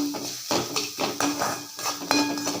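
A utensil scrapes and clinks against a pan while coriander and mint leaves with carrot are stirred and sautéed, in repeated strokes about every half second, close and moderately loud, with no speech.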